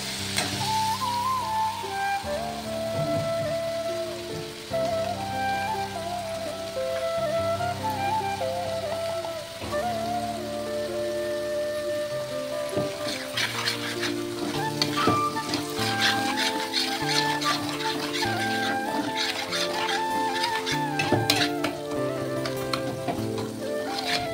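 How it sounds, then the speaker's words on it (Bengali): Spice paste with salt and turmeric is sautéed in a pan for a mustard dish. A steady close sizzle runs throughout, growing denser and crackling more in the second half, with occasional stirring scrapes over a tonal background. "ভালো করে কষিয়ে নিতে হবে। তারপর এর মধ্যে দেব নুন আর হলুদ।"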